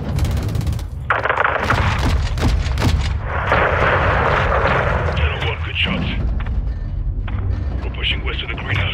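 Air strike explosions tear into a building in Call of Duty Modern Warfare 2, with loud sustained booming rumbles and crackling debris layered over heavy gunfire, dense and continuous throughout.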